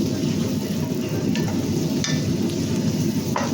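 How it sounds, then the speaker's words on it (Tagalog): Mushrooms sautéing in butter in a pan give a steady, loud, close sizzle and frying hiss with occasional small stirring clicks. "Gisa na natin siya sa butter."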